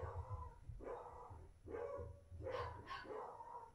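Dogs bark repeatedly at a distance, roughly five spaced barks with a steady low hum underneath, no voices present.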